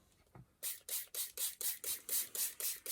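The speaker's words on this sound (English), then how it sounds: "my spray has decided to work with me now" A spray bottle squirts ten times in a steady rhythm, each burst a short hissing puff, close and fairly loud, after a brief quiet start.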